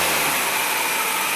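A Nissan Frontier engine runs at a fast idle after a thermostatic fast idle solenoid (FIC actuator) was fitted, giving a steady, loud, close-up hum with broadband rushing noise and no talk.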